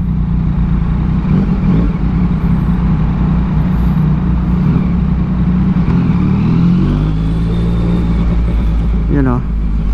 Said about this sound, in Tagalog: Uy, may nakita akong sports car